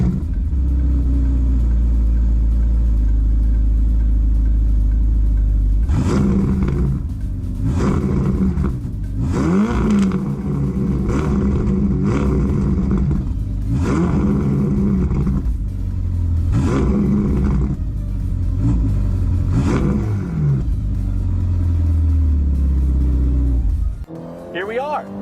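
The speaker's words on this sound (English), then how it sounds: "I'm gonna let you guys hear this sucker." A Ferrari Portofino sits at a steady low idle, then its exhaust barks through a run of sharp, loud revs and rises as the car pulls away and drives off, close by with no talking.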